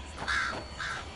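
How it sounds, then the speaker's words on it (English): A crow caws twice in quick succession, each harsh call loud and fairly close, with a short gap between them and no voices. "Get off there, crow."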